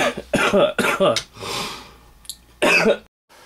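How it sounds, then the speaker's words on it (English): Several harsh coughs come in a quick burst, then a breathy pause and one more rough cough, close to the listener. "There's had some coughing and whatnot going on"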